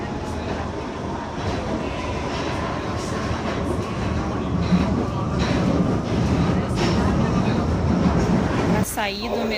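A London Underground train rumbling along, a dense steady roar with rattling that swells slightly midway, and a sharp squeal near the end, while a person speaks over it.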